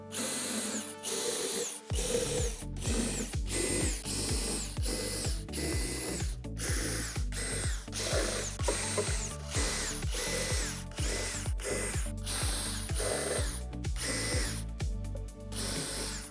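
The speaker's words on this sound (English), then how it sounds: "If there's any excess plastic, clear it out with a 1/4-inch drill bit." A power drill with a 1/4-inch bit clears excess plastic from holes during playset assembly, running in repeated short bursts with ratcheting, mechanical clicks, loud and close throughout.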